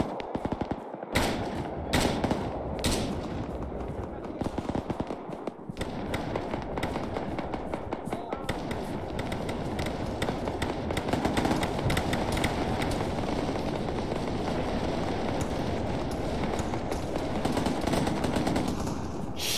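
Dense suppressive gunfire in the military shooter Arma 3 crackles almost without pause, with sharp loud bursts early on and then sustained rapid automatic fire.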